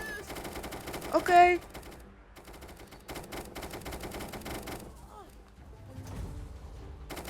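Rapid bursts of automatic gunfire in the video game Rec Room rattle in several fast volleys with short pauses, while a voice speaks briefly.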